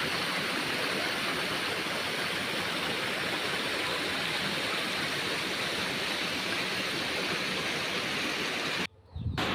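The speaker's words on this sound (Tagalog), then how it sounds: "Mao din yung falls guys oh." A waterfall pours continuously, a dense steady rush of water heard close and loud, unbroken for most of the stretch before cutting out abruptly near the end.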